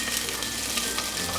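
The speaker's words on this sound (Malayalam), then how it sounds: "ചുവന്നുള്ളി ചേർത്ത് വഴറ്റി കൊടുക്കാം" Shallots sauté in hot oil alongside garlic and ginger for a Goan fish curry, giving a dense, steady sizzle heard up close with no talking.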